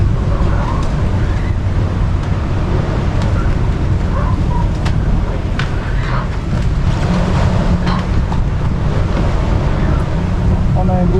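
Steady wind and rushing water surround a sailboat crossing the Atlantic at about seven knots in an 18-knot breeze, a continuous broadband wash with faint creaks and knocks, and no voices.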